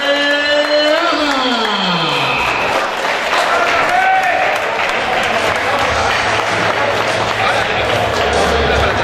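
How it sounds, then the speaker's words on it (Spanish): Crowd applause at an amateur boxing event in a Madrid sports hall, a steady wash of clapping from an audience, with an announcer's amplified voice over it at the start. "recibimos con un fuerte aplauso este puje"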